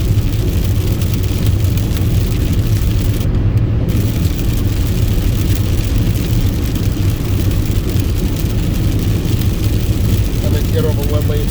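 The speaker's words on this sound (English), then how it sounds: "Listen to the sound of the water." A car drives in the rain on a wet road, its tires throwing up water in a steady, loud hissing wash with a low engine and road rumble underneath.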